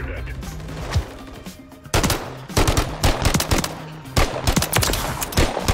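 Video game gunfire from invisible guns, with repeated rapid automatic bursts and single shots that come close and loud over a game soundscape. A voice talks now and then.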